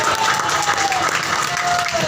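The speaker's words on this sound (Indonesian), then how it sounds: "tepuk tangan dong untuk Superdana" An audience at a cheerful group therapy session in Pamulang claps loudly and steadily for a short burst, with a voice speaking over the applause.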